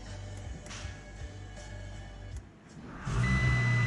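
An Audi A6 C8 engine cranking with a low, uneven churn, then catching and starting as the sound jumps louder and fuller near the end, with a few faint higher clicks along the way.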